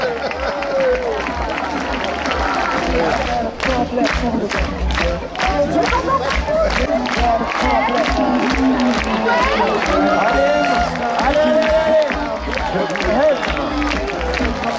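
Crowd at the 50th Coupe Icare paragliding festival in Saint-Hilaire-du-Touvet, Isère, France, cheering and applauding in a dense, continuous roar with sharp claps throughout, loud and close, with voices mixed into the din.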